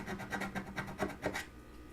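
Short hand saw strokes rasping through wood, about six rhythmic back-and-forth pulls at close range, then stopping into quiet.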